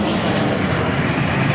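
An airplane flies low overhead near Detroit Metropolitan Airport (DTW), a steady, loud, broadband roar that fills the whole clip without any talking.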